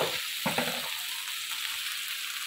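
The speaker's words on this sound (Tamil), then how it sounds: "இதில் தக்காளி வெங்காயம் பச்சை மிளகாய் புதினா கொத்தமல்லி எல்லாம் வதக்கிட்டு இருக்கேன்." Tomato, onion, green chilies, mint and coriander sauté in a pan with a steady close sizzle, a couple of stirring scrapes near the start, no talk.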